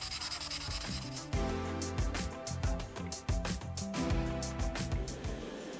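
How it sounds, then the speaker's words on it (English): A resin 1/24 scale car body being sanded by hand with a 400 grit sanding sponge, giving steady rhythmic rubbing strokes, close and continuous. "sanding it down with a 400 grit sanding sponge"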